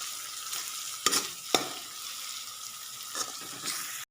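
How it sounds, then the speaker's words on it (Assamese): Chopped tomatoes fry over a medium flame while a spoon stirs them in the pan, a soft continuous sizzle under a few sharp clinks and scrapes of the utensil against the pan. "যেতিয়ালৈকে এই বিলাহীখিনি ভালকৈ নিসিজিব আমি তেতিয়ালৈকে ইয়াক মিডিয়াম ফ্লেমত আমি তাক লৰাই থাকিম।"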